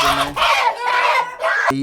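A Bhimavaram breed rooster, about 24 inches tall and nearly 5 kg, at a poultry farm in Nellore clucks in a few close, loud bursts, ending with a short sharp note.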